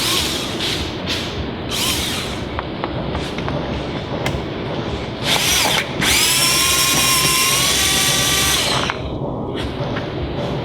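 A power drill backs out door panel screws on a Plymouth Prowler during a window regulator repair: several short whirring bursts, then a sustained whining run of a few seconds, close by with no talking.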